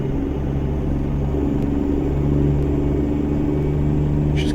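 Mack B62 truck engine in American Truck Simulator, a steady low diesel rumble building gradually as the rig gains speed, continuous and close throughout.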